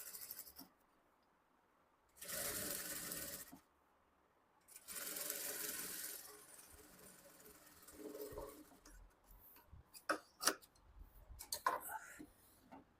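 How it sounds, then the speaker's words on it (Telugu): A sewing machine stitches folded fabric in two loud, steady bursts of rapid whirring, separated by quiet pauses, with soft handling noises and faint clicks afterward. "మళ్ళీ దీనిపైన ఒక స్టిచ్ వేసుకోవాలి."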